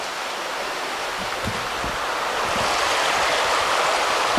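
High river water rushes beneath Pisgah Bridge in a steady, broad roar of flowing current, loud and continuous with no voices.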